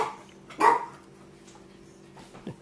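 A single sharp dog bark rings out in a kitchen, followed by quiet room tone and a faint second yip near the end.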